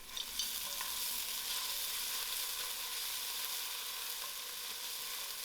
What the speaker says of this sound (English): To this, I'm going to add in my ginger garlic.